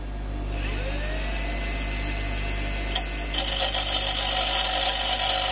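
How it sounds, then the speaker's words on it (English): A grinder spins up and grinds a point on a Ruston Hornsby PB carburettor part: a steady motor whine rising early, then a harsh, buzzing contact grind from about the middle onward. "So let's spin the grinder on. And let's see if we can get some sort of point on there."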